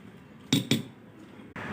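Two quick clinks of a utensil against a bowl while raw eggs are mixed with salt and chili powder, followed by a steadier scraping swirl, close and moderately loud.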